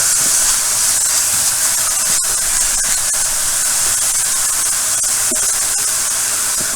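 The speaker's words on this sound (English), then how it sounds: "So what I'm doing now is sweating these onions." Onions sweat in a pan for chicken Alfredo, producing a loud, continuous bright hiss of sizzling that holds steady for the whole stretch, with a few faint clicks and no talking.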